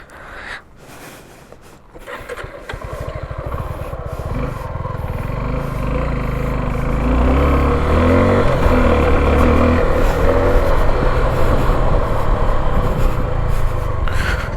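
A Suzuki V-Strom 250 SX entry-level adventure motorcycle is ridden along a road, its engine drone building steadily louder with rushing wind noise over about fifteen seconds.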